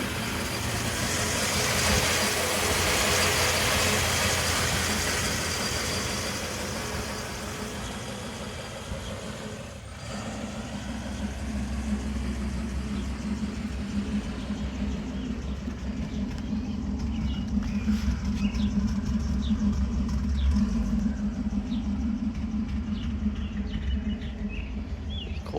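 A 1964.5 Ford Mustang convertible with a 260 V8 cranks on a cold start, then settles into a low, steady idle rumble while birds chirp faintly in the background.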